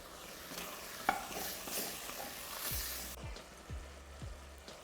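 A chicken hotpot sauce with white wine simmers and bubbles in a pot, a quiet hiss broken by a few soft stirring knocks.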